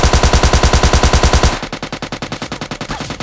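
Rapid automatic gunfire in PUBG Mobile Lite, loud and continuous, with the burst dropping to a lighter but still steady rattle halfway through.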